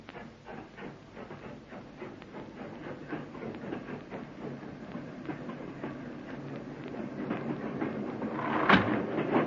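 A night passenger train crowded with soldiers rolls along the rails with a steady rhythmic clatter and rumble that slowly grows louder, ending in a sharp hiss-like burst near the close.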